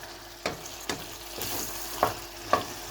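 Leeks stirred in a sizzling pan, several scraping utensil strokes against the pan over a soft frying hiss, close and fairly quiet, with no talk.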